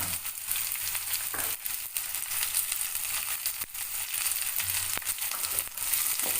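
Carrots and green peas fry in a pan with a steady, dense sizzle that runs the whole time. Occasional stirring scrapes and taps sit on top, close up, and no one speaks.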